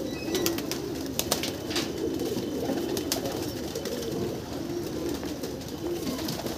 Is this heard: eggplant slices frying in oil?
no